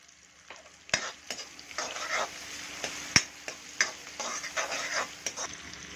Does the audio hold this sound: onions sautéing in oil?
yes